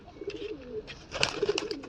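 Female pigeons of a Madrasi breed coo softly and repeatedly at close range, with a few faint chirps and light rustling around them.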